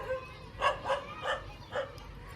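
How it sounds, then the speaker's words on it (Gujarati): Dogs give a quick run of four or five sharp, yelping barks at moderate distance, spaced unevenly over a quiet background. "લે લે કુતરા પાવા આપણે."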